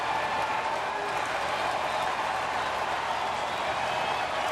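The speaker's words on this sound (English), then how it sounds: "The ball hops up at the perfect time for Royals fans to cheer" Royals fans in a baseball stadium crowd roar and cheer steadily as runs score against the White Sox, a broad, continuous wash of distant crowd noise with no break.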